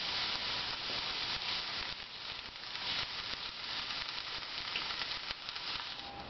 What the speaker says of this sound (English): So my onions are caramelizing nicely.